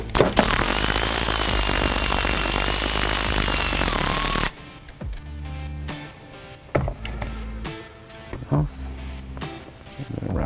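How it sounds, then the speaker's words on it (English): A powered ratchet whirs loudly for about four seconds while tightening the ground connection of a CREE LED light bar on a 2023 Super Duty, then stops and gives way to quieter clicks, handling taps and a few short bursts. "Reverse direction on this powered ratchet."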